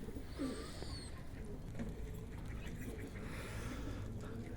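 Soft coos of racing pigeons drift in from a short distance among outdoor dovecotes, over a steady outdoor background hum, with faint chirps of other birds around them.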